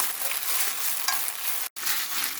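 Hijiki seaweed stir-frying in cooking oil in a pan, a steady, close, bright sizzle with stirring that runs throughout and cuts out for a split second before resuming.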